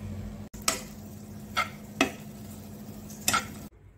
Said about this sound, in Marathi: आता भाजून घेऊया तुपामध्ये।